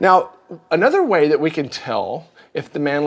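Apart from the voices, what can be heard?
No distinct noise like a dog, phone or traffic.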